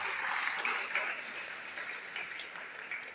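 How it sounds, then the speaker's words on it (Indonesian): An audience claps in a sustained burst of applause, loud at first and gradually easing off, with faint voices mixed in. "Tepuk tangan buat Tuhan kita."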